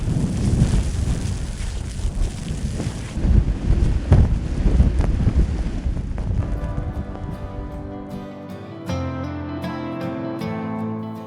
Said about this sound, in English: I think the wind is dying down now